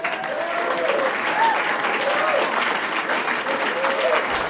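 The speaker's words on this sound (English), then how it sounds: "Give it up for Darren Carter and Fraser Smith." Audience applause at a comedy show, a loud steady wash of clapping filling the room, with a few cheers and whoops rising over it.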